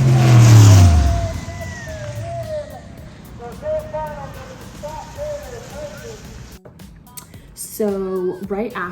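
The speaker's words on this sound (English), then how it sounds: "We are watching Dave and Scott battle it out to see who's going to the finals here at Beach Bend" Racing cars accelerate during a semifinal race at the Beach Bend drag strip, a loud roaring pass up close at the start that drops to a steady distant engine drone, with crowd chatter and talking mixed in.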